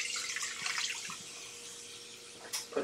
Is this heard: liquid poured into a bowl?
yes